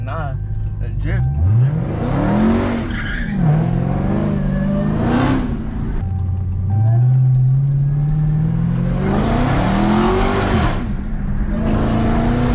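A car drifts and slides through turns, its engine rising and falling in pitch with rising revs and tyre hiss, loud and continuous, while people talk over it.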